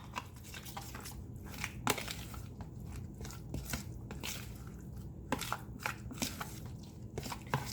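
Chicken salad being stirred in a bowl, soft wet squishing and irregular clicking scrapes repeating steadily, close and fairly quiet.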